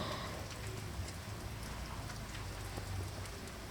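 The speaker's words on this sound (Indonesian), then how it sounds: "dan qadarullah hari pun hujan" Steady rain falls in a dense, even hiss with faint patters of drops, heard alone for the whole stretch.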